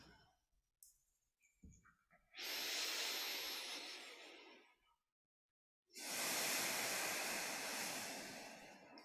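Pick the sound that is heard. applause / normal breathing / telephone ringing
normal breathing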